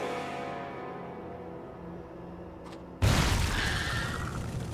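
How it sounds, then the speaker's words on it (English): A shredder grenade goes off in StarCraft II: a sudden loud blast cuts in after a steady hum and rumbles on with a broad, decaying roar and scattered debris noise. "Let me try out these shredder grenades."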